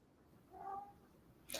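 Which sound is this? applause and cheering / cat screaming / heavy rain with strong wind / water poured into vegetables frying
cat screaming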